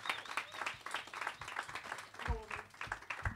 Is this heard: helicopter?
no